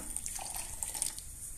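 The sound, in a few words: water being poured into mixer jar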